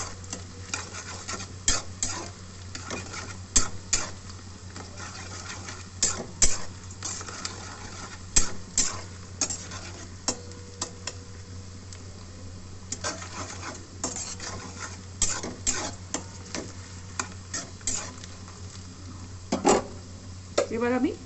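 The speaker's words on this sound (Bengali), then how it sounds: "পেঁয়াজটা একটু লাল করে ভেজে দিতে হবে।" Onions frying in a pan for chicken pulao, with a steady soft sizzle beneath repeated scraping strokes of a spoon stirring against the pan, close and fairly quiet throughout.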